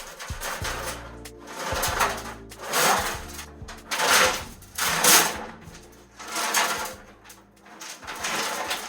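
Loose nuts and bolts rattle and clatter inside a car fuel tank from an Opel Speedster Turbo as it is shaken, coming in rhythmic bursts about once a second, loud and close, with scraping metallic jangles.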